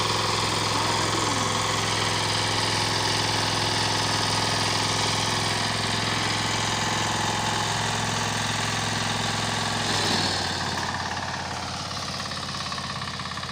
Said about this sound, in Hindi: ये हमने ट्रैक्टर लिया है छोटा और उसके साथ ट्राली लगाई है